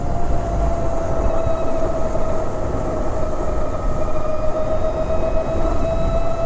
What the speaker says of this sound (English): I mean, you can hear the motor. It kind of sounds like I'm riding a golf cart